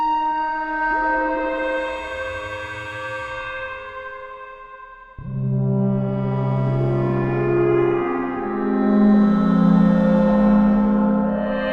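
Sustained Korg Minilogue synthesizer tones with reverb and delay ring out as two long held notes, the second entering abruptly midway, rich and echoing with no voices.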